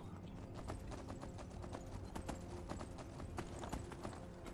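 Horse hooves clip-clop in Skyrim, a steady run of sharp hoof strikes at a quick walking rhythm, faint and continuous with no voices over it.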